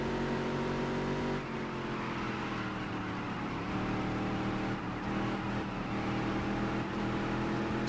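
A race car engine from the NASCAR Dirt to Daytona video game drones steadily and loudly throughout, its pitch shifting slightly as it runs in traffic, with no talking.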